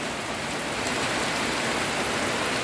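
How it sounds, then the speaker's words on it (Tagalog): Heavy rain pours down steadily outdoors, a dense, loud hiss that fills the whole clip with no break and no voices. "naabutan tayo ng ulan dito"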